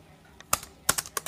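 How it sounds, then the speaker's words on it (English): Keys clatter on the braille keyboard of a BrailleNote Apex notetaker: a short run of sharp, close clicks in uneven bursts, with no voices. "And now I'm just going to start typing."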